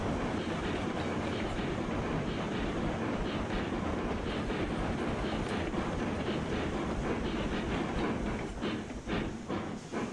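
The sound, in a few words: train running on rails in Railroads Online video game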